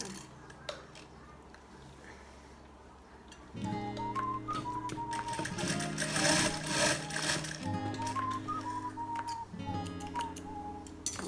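Sewing machine stitching across the end of a handmade bag with a kiss-lock frame, running in a steady mechanical whir for several seconds after a quiet start, with faint whistling tones over the motor.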